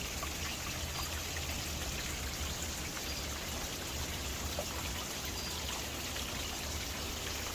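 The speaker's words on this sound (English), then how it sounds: "but the water comes and runs through the surface" Spring water seeping and trickling over open ground at Soup Bowl, Bathsheba, St. Joseph, Barbados, a continuous even wash of fine splashing and dribbling that stays steady and close throughout, with no voices.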